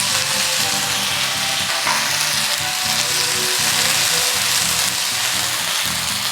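Dried red chillies and curry leaves frying in hot oil for a prawn curry tempering, a loud, steady, dense sizzle with faint stirring, close up and without talk.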